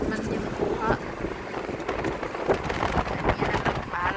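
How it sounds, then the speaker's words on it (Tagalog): Strong wind through an open vehicle window buffets loudly in gusts against the microphone, with a rushing roar and vehicle rumble and occasional voices underneath, early morning in Sabah, Malaysia. "Naka-open kasi ang window mga madam. Dahil, pag sa motorbang sudah. Close natin kunti guys. Ang lakas ng hangin"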